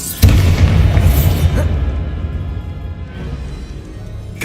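A Bombarda explosion spell in Hogwarts Legacy goes off with a loud, deep boom that rumbles and slowly fades over a few seconds, with no talk over it.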